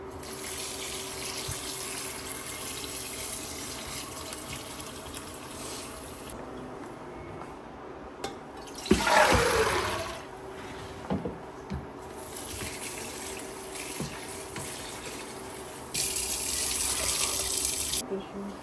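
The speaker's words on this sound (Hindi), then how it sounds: "यहाँ पे आंटी चनों को अच्छे तरीके से धो रही हैं" Tap water runs steadily into a sink as soaked chickpeas, treated with baking powder, are rinsed clean, with a few soft knocks and splashes partway through.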